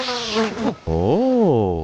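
A mosquito buzzes loudly and close in a high, reedy whine whose pitch rises and falls, with a brief break before it resumes and holds for about a second.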